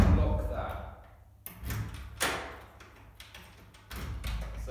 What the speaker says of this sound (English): So lock that door and keep the key.